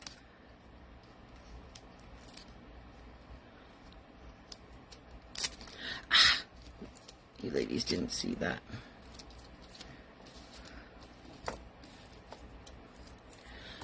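Several crisp scissor snips cut through paper in short bursts mid-clip, close up, with a voice speaking briefly.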